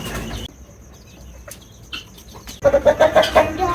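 Roosters scuffle in a cage, a big one attacking a white one, with wing flapping and a rapid run of loud clucks near the end.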